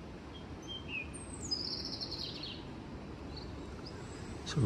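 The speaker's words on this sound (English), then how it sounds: "Robins singing." A robin sings in bright, high trilling phrases in a sunny, sheltered garden spot, fairly close and clear above a steady low rumble of background noise.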